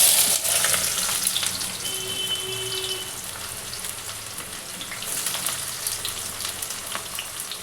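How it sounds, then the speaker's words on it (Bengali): Onion fries in hot oil in a pan for a Bengali-style mutton curry, after potatoes have been fried. The sizzle is steady and crackling, loudest at the start as the onion goes in, and there is a brief metallic scrape of stirring. "আগে পেঁয়াজটা একটু লাল করে ভেজে নিই বন্ধুরা।"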